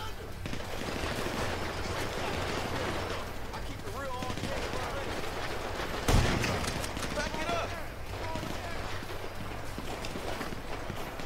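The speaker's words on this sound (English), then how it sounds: "Mike, you're planning on shooting these bricks!" Gunfire aimed at bricks in the video game Grand Theft Auto V, a dense continuous rattle of shots beneath lively overlapping game noise, with one sharper crack partway through.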